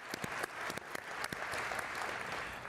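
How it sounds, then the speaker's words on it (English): An audience at the Sony CES 2025 press conference claps, with a few distinct, separate claps at the start that build into a soft, fairly distant round of applause. "I'll clap."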